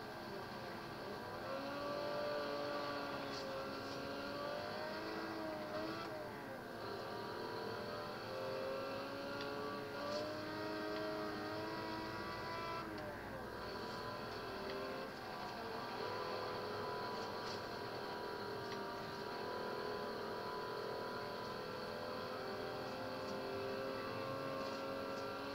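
Race car engine in Forza Horizon 3, a steady loud drone with rising and falling revs as gears shift through a lap, continuous and close throughout with no voice on top.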